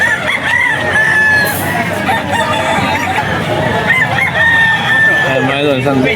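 Several bulik roosters crow loudly and close by at a busy pet market in Bocaue, their long drawn-out calls overlapping with clucking hens and muffled crowd chatter in the background.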